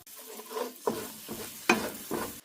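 Scrambled egg whites go into a hot pan with green onions and garlic and are stirred, giving several short bursts of sizzling and scraping.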